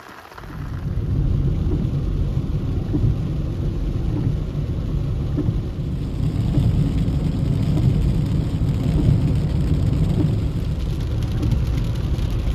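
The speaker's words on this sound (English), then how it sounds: "It is still raining and it's going to do so all day long" Steady rain pours down with a low, continuous rumble of thunder or heavy wind, loud and close, a dense wash of sound that holds unbroken for over ten seconds with no talking.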